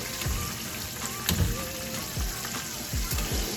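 Oil sizzles and crackles steadily as chicken fries in a pan, with occasional soft pops and clinks of a utensil close by.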